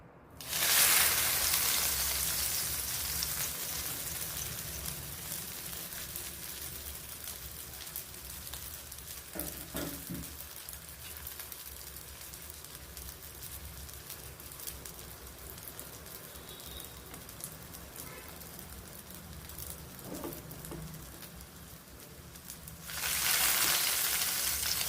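Breadcrumb-coated potato tikki shallow frying in hot oil, a steady close rain-like sizzle throughout, with a couple of soft knocks and a louder burst of sizzling near the end.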